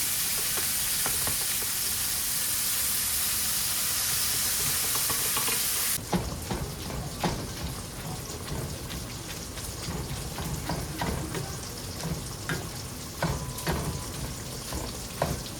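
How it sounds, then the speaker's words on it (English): Pot of water on a stovetop reaching a rolling boil during home freezer meal prep, a steady loud hiss and bubbling that shifts after six seconds into softer irregular popping and gurgling, with no talk. "And we have a boil"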